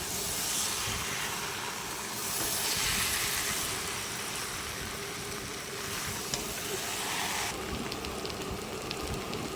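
Prawns, potato and young jackfruit frying together in a pan, a steady dense sizzle and hiss with faint clinks, no talking.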